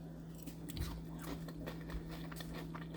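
Someone takes a bite of a tuna mixture and chews it, producing soft, close, quiet crunching and mouth sounds spread over a few seconds with no talk.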